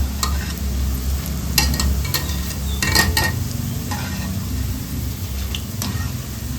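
Khara boondi made from besan batter fries in hot oil while being stirred, giving a steady close sizzle with sharp scraping and clinking strokes of a spoon or ladle against the pan.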